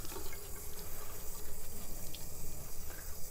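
A ceramic coating applicator pad is rinsed under a running tap, a steady loud rush and splash of water into a sink with no talking.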